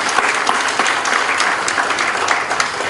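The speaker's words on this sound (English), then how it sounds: "Please give them a warm round of applause" A lecture audience gives a warm, steady round of applause, dense and continuous clapping filling the room without speech.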